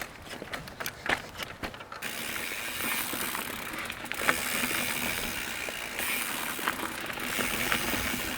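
Mountain bike freewheel ratcheting during bike control practice in an open area: rapid clicking bursts come and go over steady outdoor noise, fairly close, with no talk.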